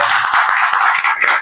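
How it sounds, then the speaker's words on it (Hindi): Audience applause at a Diwali gathering of an organisation, a steady patter of many hands clapping close by with no talk over it. "एक बार चाहूंगा दिल से मैडम के लिए जोरदार तालियां जरूर"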